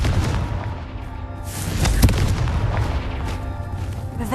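Confringo fire spells burst repeatedly in the Hogwarts Legacy video game, a dense run of heavy booms and cracks with one especially sharp blast midway.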